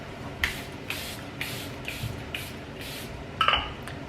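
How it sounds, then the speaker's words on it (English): Charlotte Tilbury makeup setting spray misted from a pump bottle in a run of about eight short, crisp spritzes at a steady rhythm, close up over a quiet room. "I'll just quickly set it with my Charlotte Tilbury setting spray"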